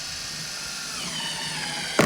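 A Makita XGT 40V max brushless impact driver, model GDT01, drives a screw into wood in its automatic wood mode, giving a steady, close mechanical whir that picks up and ends in a sharp burst.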